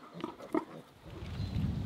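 A sow and her piglets on a free-range homestead farm, giving a few short close grunts and snuffles, then a low rumbling bout of grunting toward the end.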